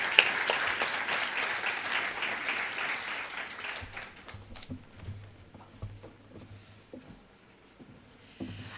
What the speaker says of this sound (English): Another round of applause for Mrs. Melrose Foster.